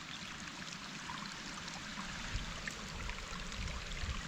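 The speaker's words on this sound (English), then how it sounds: "There is just a ton of water coming out of here." Water flowing steadily out of a spring on a hike toward a waterfall, a soft continuous trickling rush, faint and even throughout with no voices.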